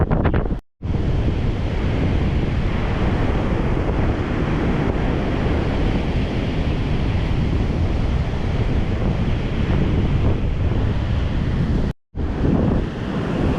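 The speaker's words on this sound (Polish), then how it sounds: "A z pół kilometra fale już się robią" A loud, constant roar of surf and wind buffeting the microphone, broken by two brief dropouts, with no voices.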